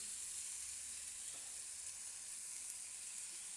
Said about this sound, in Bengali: এইবার দেব কাতলা মাছের তেলটা, যে ধুয়ে ভালো করে রেখেছি